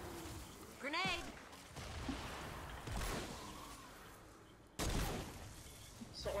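Grenades explode in Fortnite Save the World, two or three broadband blasts with the sharpest one late, mixed with game effects while a player talks over them.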